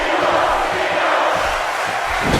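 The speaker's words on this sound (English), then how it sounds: "You hear this crowd and desperately wanting Cena in this matchup." A wrestling show crowd roars in a steady, loud wash of cheering and chanting throughout, with no break in the noise.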